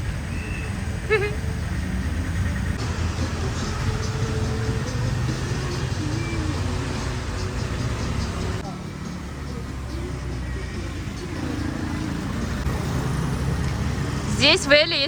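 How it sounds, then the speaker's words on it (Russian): Traffic on a town street in Ella, Sri Lanka, a steady, moderately distant roar of passing cars with engine hum and swells as vehicles go by, continuing beneath faint background voices. "Тут вон машины ездят."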